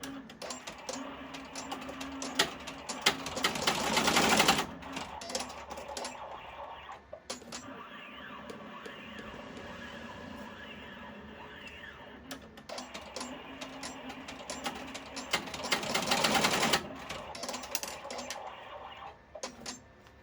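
An embroidery sewing machine tacks down a pleat on a face mask in the hoop, stitching in two short rapid bursts of ticking separated by quiet.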